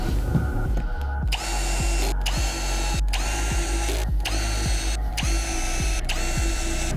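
A power drill drives wood screws into the receiver of a standing desk frame, with a steady loud motor whine broken by a regular series of about eight short ratcheting pulses, no talk.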